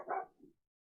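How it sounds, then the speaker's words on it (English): A single dog barks close by, one short bark trailing into a softer second yelp, then silence in a home setting. "That's a dog."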